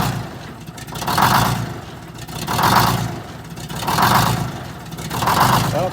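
A GM 4104 bus with a Detroit Diesel 6-71 engine runs rough with a miss, its loud mid-pitched drone swelling and sagging in a steady uneven pulse about every 1.4 seconds, close by with no talk.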